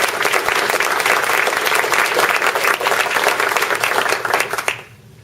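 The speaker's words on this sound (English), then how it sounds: "At this time, we can give them an applause." A crowd applauds with steady, dense clapping for several seconds before it quickly dies away into quiet.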